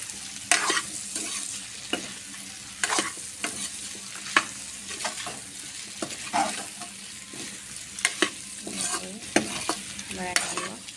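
Potatoes being stirred as they fry in a pan, with repeated scraping strokes of a spatula over a low sizzle, close and rhythmic, without any speech.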